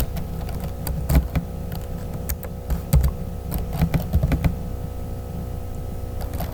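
Computer keyboard typing while designing a church flyer in Adobe Photoshop: bursts of crisp, irregular key clicks, close and moderately loud over a faint steady hum, with no talking.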